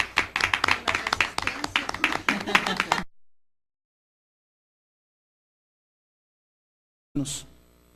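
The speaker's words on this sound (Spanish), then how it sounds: "un aplauso por esta charla" An audience at a 2001 religious and political tolerance seminar panel claps after a talk, about three seconds of close, fairly sparse applause that stops abruptly, followed by silence and then a short voice.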